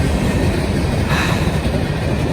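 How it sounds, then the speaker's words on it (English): Union Pacific trio of locomotives pulling a coke train on an Iron Range line, a loud, steady, close rumble of engines and rolling railcars with continuous wheel noise. "A UP trio on a Coke train"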